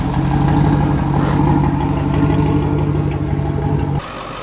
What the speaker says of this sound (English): the van's running